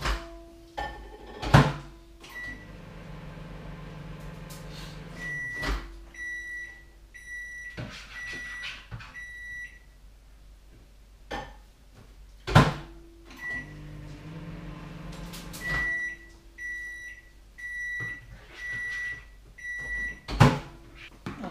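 A microwave oven heats a bowl of baked beans, its steady hum running in two long stretches broken by door thunks, clicks and repeated bright beeps at the start and end of each cycle.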